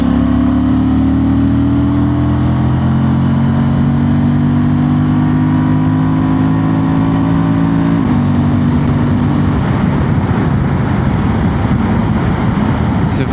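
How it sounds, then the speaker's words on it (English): A 2025 Honda Transalp SP motorcycle engine revs steadily for about eight seconds, its pitch climbing slowly, then drops back toward a rougher, lower idle; loud, close and continuous with no talking. "Let's rev it a little bit."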